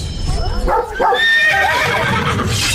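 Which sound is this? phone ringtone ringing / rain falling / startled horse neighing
startled horse neighing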